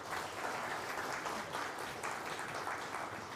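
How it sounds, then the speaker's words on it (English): Audience applause at the close of a Knowledge Hub expert session at the MIHAS 2024 trade expo: steady, dense clapping from a hall crowd, sustained at an even level for the whole stretch with no voices. "Please give them all a round of applause."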